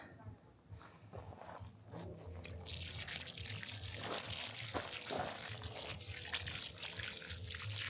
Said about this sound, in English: Got the hose on.